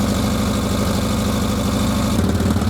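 Small engine idling with the choke on, running rich: a steady, close, mid-to-low mechanical drone with a constant rhythmic pulse and no voices.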